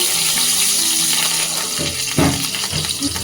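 Black cumin, bay leaf and slit green chillies are dropped into hot oil in a kadai and sizzle steadily up close, with a few louder crackles and spatters toward the end.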